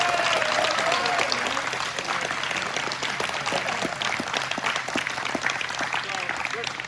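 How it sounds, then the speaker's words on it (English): Applause at a collegiate signing day for high school players committed to college volleyball: a sustained, even round of clapping from a gathered crowd, moderately loud throughout, with a faint whistle-like tone early on. "So let's give them a quick round of applause"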